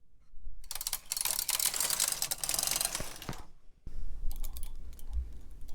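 Knitting machine carriage drawn across a row of a bulky sweater: a dense, loud mechanical clattering rush for about three seconds, a brief pause, then a second shorter pass with rattling clicks.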